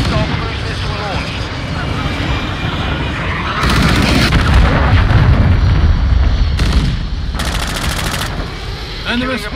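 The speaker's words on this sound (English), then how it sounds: "Hostile cruise missile launch!" A hostile cruise missile launch and its explosion in Modern Warfare II multiplayer, heard amid heavy machine-gun fire and booming blasts, with loud bursts of roaring noise and shouted in-game voice callouts over the chaos.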